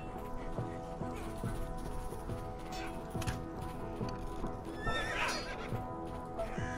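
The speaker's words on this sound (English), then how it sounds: "And then you can pet horses." A horse neighs in a VR video game, a loud whinny near the end over steady hoof clip-clop and busy game sounds, with some voice in the background.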